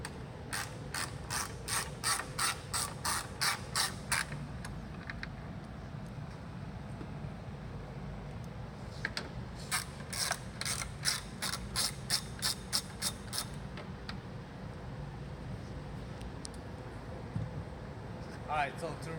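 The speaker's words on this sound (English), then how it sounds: "to remove the taillight, you're gonna need a 10mm ratchet" A 10mm ratchet clicks in two long, rapid bursts while removing the taillight of a 2012-2017 Hyundai Veloster, the fast, even pawl ticks close by, with a voice speaking between and under the bursts.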